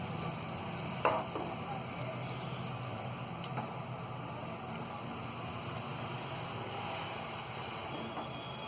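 Keema and chana bhaji fry in a pan with a steady, soft sizzle like light rain that runs throughout, broken by one brief clatter of a utensil about a second in.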